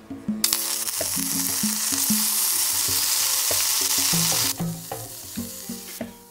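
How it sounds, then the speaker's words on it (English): Butter sizzles in a hot pot on the stove as cooking begins, a bright steady frying hiss that swells and then drops back, with clinks and light knocks from a utensil sounding throughout. "When it's quite hot, I start with the butter."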